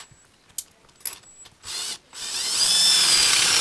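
Drilling plywood with a Kreg hinge jig for a farmhouse apron-front base cabinet, a few light taps and a short burst, then a loud, steady whining drill boring into the wood, close up.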